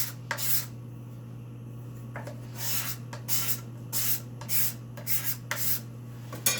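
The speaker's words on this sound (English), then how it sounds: "what I'm going to do is just take the scraper" A hand scraper drags across the wood of a handmade spice rack in several short, rasping strokes with brief gaps, close up over a steady low hum.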